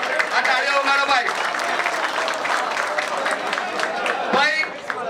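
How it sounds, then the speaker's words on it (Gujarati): Audience at a Banaskantha Rukhi community election committee gathering in Mumbai breaks into sustained, dense applause, many hands clapping steadily close by while voices carry faintly underneath. "આ તાળીઓ ઉગાડો ભાઈ"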